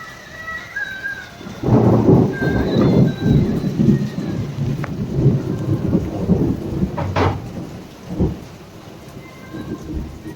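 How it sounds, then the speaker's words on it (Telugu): Heavy rain pours steadily through a stormy night, with rolling thunder rumbling near and loud and a few sharper cracks; no voices are heard. "ఫుల్ వర్షం అండి"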